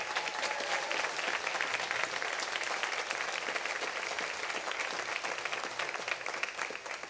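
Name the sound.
audience applause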